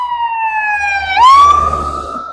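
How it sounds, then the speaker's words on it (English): Ambulance siren on a city street, a wailing tone that drops and then sweeps sharply upward as the vehicle passes close by, with engine rumble beneath. "that's an ambulance, so somebody's not having a good evening"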